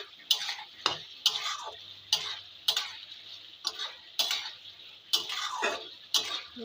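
A spoon stirring cauliflower curry in a pan after tomato ketchup is added, making repeated scraping clicks in an uneven rhythm over a faint background sizzle.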